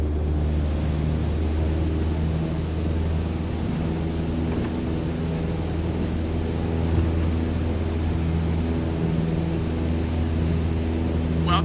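A light airplane's engine at full throttle during a climb in Microsoft Flight Simulator 2020, giving a loud, steady, droning hum with a strong low tone that holds unchanged from start to finish.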